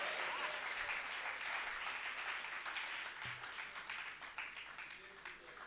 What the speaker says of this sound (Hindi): आप लोग तालियां कब बजाएंगे?